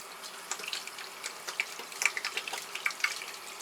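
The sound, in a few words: rinsing hands with running tap water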